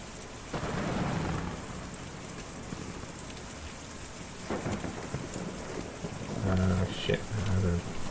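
Rain pours steadily in the Kentucky Route Zero game scene, with rolling thunder booming near the start and again around the middle, over a continuous wash of rainfall on surfaces and a low tone near the end.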